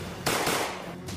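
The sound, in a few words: two gunshots fired by hitmen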